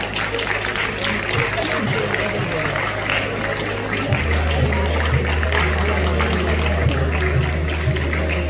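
Audience applause for young students at a district science exhibition prize ceremony, dense continuous clapping from a crowd with a steady low hum underneath.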